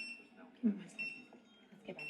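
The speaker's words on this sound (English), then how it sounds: "It beeps to warn you." Faint repeated electronic start-warning beeps from a treadmill, sounding under quiet talking.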